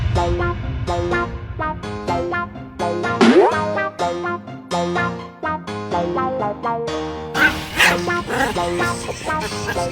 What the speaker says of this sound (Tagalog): Si Tiny po, yung makulit po siyang aso.